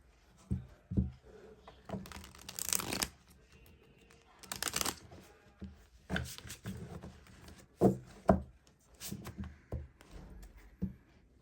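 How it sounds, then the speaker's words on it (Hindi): Tarot cards are drawn from a deck and handled in short bursts of shuffling and sliding, with soft rubs and taps in between, close and fairly quiet. "चलिए दूसरे डेक से भी मैं ऐसे ही कुछ कार्ड्स निकालूंगी।"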